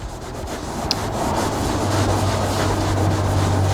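A cloth wipes cleaner over the surfaces of a BMW car, a steady soft rubbing and swishing that sounds close and continuous, with a faint low hum behind it and no talking.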